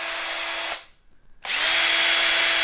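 A RIDGID cordless drill powered by a 4 amp hour battery whines at steady high speed, cuts out briefly, then spins back up louder and holds, close and alone.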